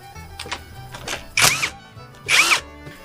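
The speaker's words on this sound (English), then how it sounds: "I think I'll use my impact." An impact wrench works on a Corvair engine with cylinders stuck on the pistons, firing two loud, close rattling bursts about a second apart between quieter moments.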